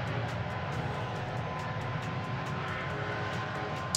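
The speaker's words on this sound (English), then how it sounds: "So there's the engine sounds on takeoff." Airliner jet engines spooling up for takeoff in the air traffic control game I Am an Air Traffic Controller 4, a steady, dense roar holding at an even level throughout with no talk over it.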